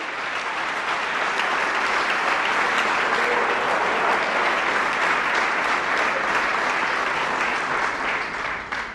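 A church congregation applauds loudly and continuously, a dense wash of clapping that holds steady and then begins to fade at the end.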